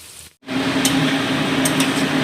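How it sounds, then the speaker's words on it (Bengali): Small palm-fruit fritters (taler bora) deep-frying in hot oil, giving a steady, loud, close sizzling hiss after a brief gap, with a few faint clicks on top. "আর বড়াটাও লাল লাল করে আমি ভেজে নিচ্ছি।"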